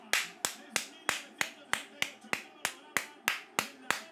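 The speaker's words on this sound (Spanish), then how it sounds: "Todos aplaudiendo a Southgate ahí" Applause for Southgate at the Euro 2020 final between Italy and England, heard as about a dozen crisp, close hand claps at a slow, even rhythm, loud and isolated with nothing else beneath.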